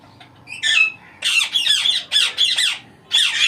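A plum-headed parakeet in an aviary gives a run of harsh, close squawks, several in quick succession with short gaps between them.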